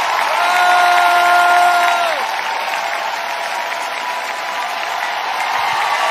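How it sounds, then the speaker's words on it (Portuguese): Audience applause at a Brazilian TV variety show anniversary tribute. Dense, steady clapping with some cheering, and a sustained tone fades out around two seconds in. The clapping continues evenly to the end. "Aplausos, aplausos!"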